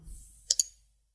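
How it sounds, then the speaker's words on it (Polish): Two quick key clicks from a keyboard's Ctrl key, close to the microphone, sharp and separated by a short gap, in an otherwise quiet room. "klikamy Ctrl"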